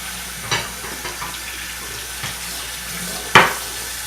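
A disinfected stirring spoon is rinsed under a running kitchen tap while making pepper mead: steady close water flow with a few clinks and splashes, including a sharper knock near the end.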